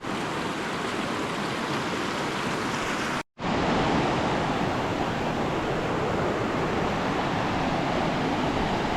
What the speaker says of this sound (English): So this is Glacier Creek.